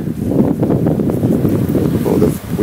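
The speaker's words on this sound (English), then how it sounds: "Oh, the wind, the wind." Gusty wind buffets an outdoor microphone during a beehive inspection, a steady loud low rumble with surging gusts throughout.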